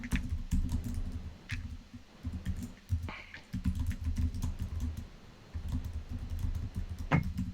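Scissors snip through the skirt of a Zman Jackhammer Fire Craw chatterbait lure, giving a few sharp, scattered clicks over a steady low handling rumble close to the microphone.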